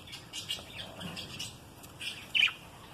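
Ten-day-old budgerigar chicks give faint, thin chirps and a couple of squawks, with one sharper cheep standing out near the end, all quiet over a hushed background.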